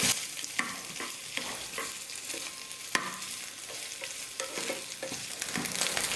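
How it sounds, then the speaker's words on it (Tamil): Coconut pieces frying in ghee, a dense, bright continuous sizzle with crackling and periodic scraping strokes of stirring, close and steady, no voices. "நெய்யில் தேங்காவை நல்லா வறுத்துக்கலாம்."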